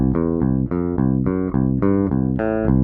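Short-scale bass guitar plays a two-bar riff of steady plucked notes that keep bouncing back to a low C, loud and up close with no talk.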